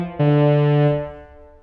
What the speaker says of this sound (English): And finally, you get a nice reverb.